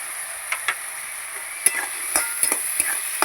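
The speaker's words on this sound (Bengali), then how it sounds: "সব একসাথে কষাবো।" Radish and peas are stir-fried in a pan, a spatula scraping and knocking in irregular strokes over a soft, constant sizzle.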